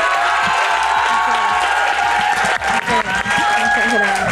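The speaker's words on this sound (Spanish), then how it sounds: "Nos damos un aplauso por haber estado juntos aquí." Audience applause at a talk with an activist, a dense steady clapping wash mixed with crowd voices and some cheering throughout, loud and close.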